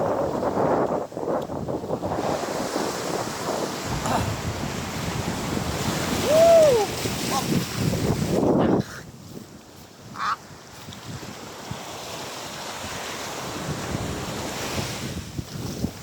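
Surf rolls and washes steadily on a beach at a resort in La Union, with heavy wind buffeting the microphone, and a person whoops once partway through.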